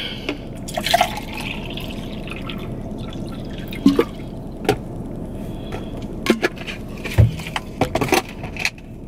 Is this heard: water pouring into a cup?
yes